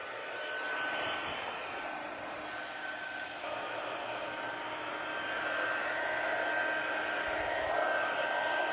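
A heat tool used for card making blows hot air in a steady, moderately loud whir that holds for several seconds without a break.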